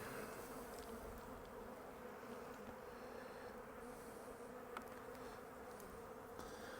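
Honey bees buzz steadily around an open hive during a spring inspection, a dense, continuous droning hum close by, soft and even throughout with no voices.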